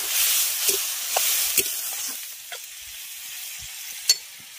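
Masala and carrots sizzle in a pan for masala pasta as a little water goes in: a loud hissing burst that fades into a softer, steady frying hiss, with a few light clicks and taps of a spoon, close up and without talk.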